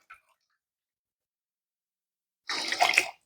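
Half of a 16-ounce bottle of water, about 8 ounces, is poured into a container for homemade high-protein coffee creamer. After near silence comes a brief, close splashing pour that lasts under a second.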